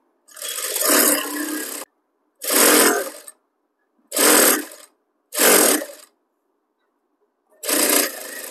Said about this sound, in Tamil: இங்கே வந்து ஓரமாக மடித்து தைச்சிக்கிறேன்.